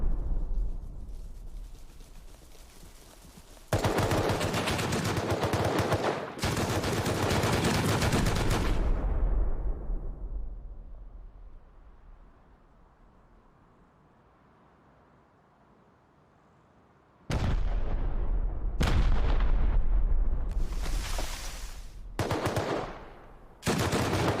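Loud bursts of rapid gunfire and heavy blasts from a video game battle with rocket launchers, two dense barrages separated by a quieter lull, then several sharp bursts in quick succession near the end.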